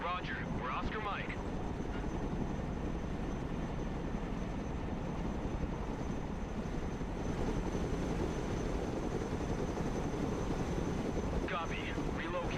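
Military helicopters in the strategy game Broken Arrow drone in a loud, constant rotor and engine roar throughout, with brief radio-style voice chatter near the start and end.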